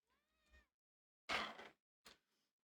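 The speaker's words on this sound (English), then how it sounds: "My cat has been a menace." A pet cat meows briefly and faintly, followed by a sharp rustling burst and a short thump, then quiet.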